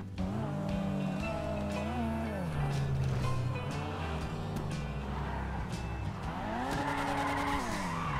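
A car in GTA V FiveM roleplay revs and drives, its engine pitch climbing and falling as the tires skid and squeal, with faint voices now and then beneath the engine.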